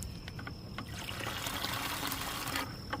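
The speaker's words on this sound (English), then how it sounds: "Just want to fill it up with water." Water running from a filter into a bucket, a faint steady trickle and splash with a few small clicks and knocks.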